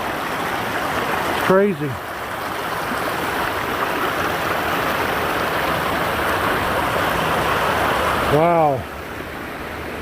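A creek flows steadily along a section of the Appalachian Trail between Front Royal and Harpers Ferry, a loud continuous rush of water with brief exclamations from people at the start and end.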